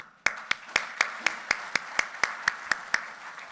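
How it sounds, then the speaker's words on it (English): Conference audience at ID4Africa 2018 applauding, heard as a crisp, evenly spaced run of about a dozen claps, fairly near and steady in rhythm. "please join me with a round of applause for the ID4Africa ambassadors"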